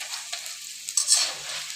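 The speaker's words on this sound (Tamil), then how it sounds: "நல்லா சவுண்டு நல்லா வந்துடுச்சு. இது 2வது முறை போட்டு வறுத்துட்டு இருக்கணும்." Bitter gourd pakoda deep-fries in hot oil on a second fry, a dense close crackling sizzle that swells briefly in the middle, no voices.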